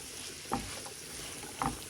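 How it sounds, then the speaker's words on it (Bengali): Onions fry in oil under a constant low sizzle while being stirred, with two distinct spoon scrapes against the pan standing out. "তো নাড়াচাড়া করছি"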